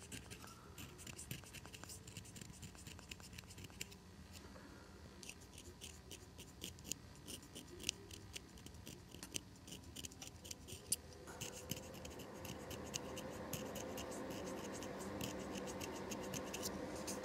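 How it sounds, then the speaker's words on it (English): A knife scrapes the corners of a cane oboe reed in short, dry strokes. The scratching is quiet and close, comes in brief repeated bursts, and turns into a steadier rasp toward the end. "I'm going to do just very little, except maybe scrape some of the corners."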